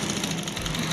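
A sewing machine runs steadily while stitching a V collar neckline, a close, continuous mechanical hum with a fast, even rhythm across the whole moment.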